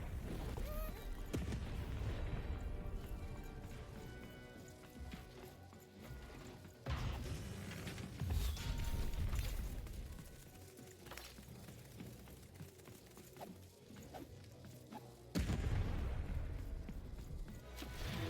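Dense, rumbling sound effects of walls rising in the video game Lost in Random, with heavy low booms and mechanical grinding, surging loud at several points over a continuous music-like bed.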